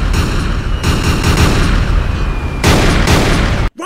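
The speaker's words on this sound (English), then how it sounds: "easily the best looking cannon firing animation in the entire series." Ship cannons fire in a One Piece anime film, Dead End Adventure: a dense, loud run of booming blasts and rumbling impacts layered over dramatic sound, with a sharp fresh burst near the end before a brief dropout.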